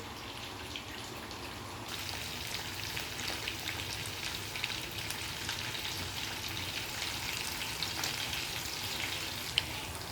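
Food fries steadily in a pan with a continuous crackling sizzle, fairly faint and even throughout, with no voices.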